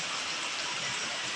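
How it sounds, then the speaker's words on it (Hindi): Light, fine rain falls on a house roof, a soft even patter that holds steady and close with no talk. "तो अभी तो छोटा छोटा बारिश हो रहा है, पतला पतला गिर रहा है मतलब"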